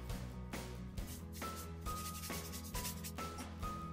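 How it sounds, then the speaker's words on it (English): Paintbrush loaded with mineral spirits scrubbing paint onto a canvas shoreline, rhythmic rough rubbing strokes about every half second, close and quiet, no talking. "this is what I call a scrub, and I'm scrubbing in the shoreline"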